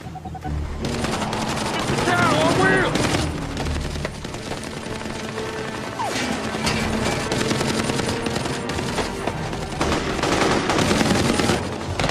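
Sustained automatic gunfire in an action movie battle with drug gangs in Cuba, loud, rapid bursts and scattered shots rattling almost continuously, with shouted voices mixed in.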